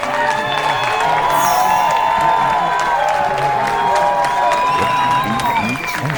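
A hometown crowd at a bowling center in Mooresville, North Carolina cheers and applauds loudly and without a break after a PBA50 title-clinching win, with whoops and voices over a steady wash of clapping.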